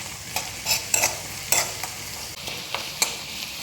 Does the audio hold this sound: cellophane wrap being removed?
no